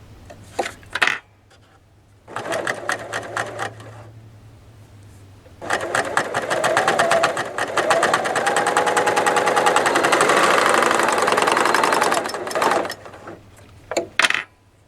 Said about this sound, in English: I'm going to go ahead and start to sew